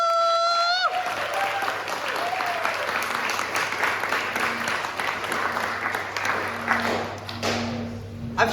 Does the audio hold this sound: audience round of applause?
yes